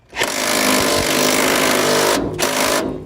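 A loud, close impact wrench loosening a bolt on a Toyota Tacoma during a Curt receiver hitch install rattles in one sustained burst, cuts out briefly, then hammers again for a moment.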